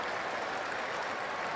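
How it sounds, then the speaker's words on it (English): Baseball stadium crowd roaring after a nice catch in the lower deck, a steady, dense wash of cheering and noise that holds evenly through the moment without clear individual voices. "nice catch in the lower deck, and you get the roar from the crowd"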